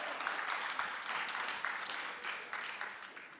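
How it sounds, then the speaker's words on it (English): Moderate applause from a conference audience, a brief round of clapping heard from a distance at low volume, steady and slowly tapering without talk. "How about a round of applause for that"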